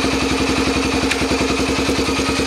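A Yamaha TTR125 motorcycle engine with its baffle removed runs loud and close with a rapid, even thumping beat while the rider clutches in and shifts into first gear, a single sharp click cutting through midway.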